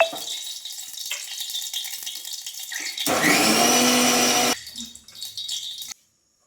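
A kitchen mixer grinder blending curd with crushed peanuts, a loud whirring motor burst lasting over a second amid rattling and clattering of the jar, then winding down.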